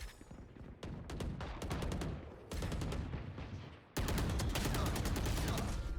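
Video game gunshots ring out in rapid, loud bursts, a quick string of sharp cracks followed by denser sustained fire, close and dominant with no speech heard.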